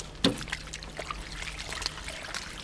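Water tipped from a watering can onto brickwork, washing dust out of a gap left by a removed brick. A soft, steady trickle and patter with one brief louder splash near the start.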